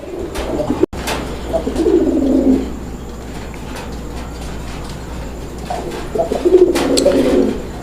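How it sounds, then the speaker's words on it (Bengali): Pigeons coo in two low, rolling bursts close by, with a sharp knock near the start and faint background noise between calls. "আপনারা দেখতেই পাচ্ছেন কবুতরের ডাক"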